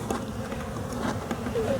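Honeybees in a hive during a late-December winter inspection give a steady, close, moderately loud buzz that holds without a break the whole time, with no voices over it.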